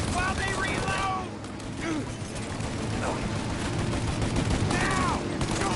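Gunfire in the video game Mafia, rapid sustained bursts of shots and mechanical clatter from a heavy mounted gun and small arms, loud and continuous, with shouted dialogue in between.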